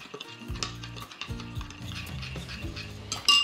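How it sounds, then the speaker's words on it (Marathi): Yogurt with chili thecha, salt and sugar whisked in a bowl, heard as close, rhythmic scraping strokes of a utensil against the bowl with a brief clink near the end. "आता हे दही छान फेटून घ्यायचं"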